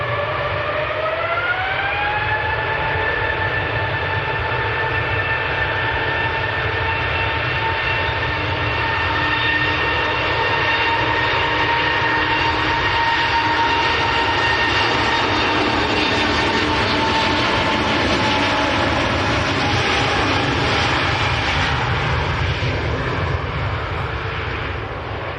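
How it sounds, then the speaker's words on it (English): A Jet2 Airbus A321 jet airliner at Manchester Airport roars loudly and steadily, its engine whine holding a rising then level tone throughout, close and continuous with no talking. "Jet 2's brand new A321s is coming across as well in the red and silver scheme."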